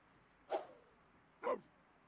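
Two short dog barks in The Sims 4, about a second apart, clear and fairly close over a quiet background.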